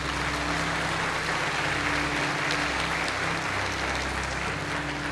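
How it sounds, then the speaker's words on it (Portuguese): Steady, dense applause from a church audience fills the whole stretch at an even level, with a low hum running underneath and no voices breaking through. "Se você crê, você pode aplaudir a Jesus por isso"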